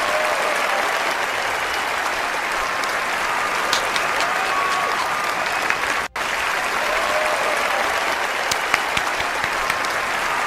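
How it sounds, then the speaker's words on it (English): An audience claps continuously in a dense, even wash of applause at a community awards show, steady throughout with a brief dropout near the middle. "Let's clap it up, Le Curtis."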